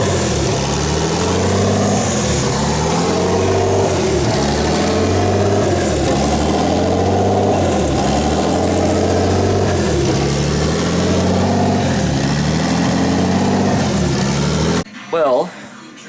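A turbocharged BMW E36 with no exhaust system fitted starts up and idles loudly and roughly in an enclosed space, its raw throbbing pulses continuous until it cuts off abruptly near the end.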